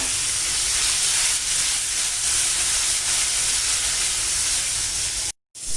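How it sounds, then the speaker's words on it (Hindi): Garlic, onion, tomato, green chili and ginger paste hits a hot pan of oil while making Punjabi chole, giving a loud, steady steam-like sizzle and hiss that runs unbroken before a brief cut near the end. "अब मैं यहाँ पे डाल रही हूँ इसमें पेस्ट जो मैंने लहसुन, कांदा और टमाटर, हरी मिर्च, अदरक का पेस्ट बनाया था"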